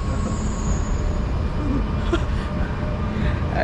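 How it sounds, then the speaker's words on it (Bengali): A train passes a station in Old Dubai with a loud, steady rumble of wheels on rails that holds close and continuous throughout, with a faint squeal near the middle. "ট্রেন একটা চলে গেছে"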